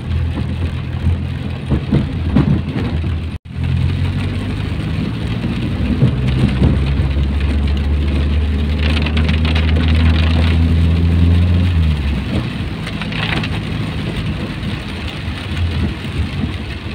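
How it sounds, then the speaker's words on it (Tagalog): Heavy rain pours down in a dense, continuous roar close by, with a vehicle engine droning beneath it for several seconds and one brief knock partway through. "it's raining hard"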